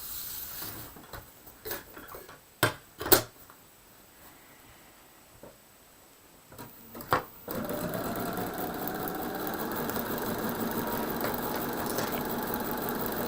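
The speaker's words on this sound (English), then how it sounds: "bring that to the sewing machine." A sewing machine stitching a paper-pieced quilt block for a holiday tree pattern, starting after several scattered clicks and handling knocks, then running in a steady continuous whir for the last several seconds, close and moderately loud.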